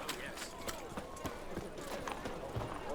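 Horse hooves clip-clop at a steady, quick gallop in The Witcher 3 video game, faint and rhythmic against a noisy background.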